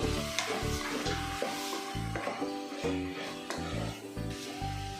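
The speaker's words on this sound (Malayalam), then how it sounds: "നമുക്കിതെല്ലാം കൂടെ ഒന്ന് ഇളക്കിയെടുക്കാം." Coriander powder and spices stirred in a hot pan for Kerala-style veg kurma, giving a steady close sizzle broken by regular scraping strokes of the spoon, with no talking.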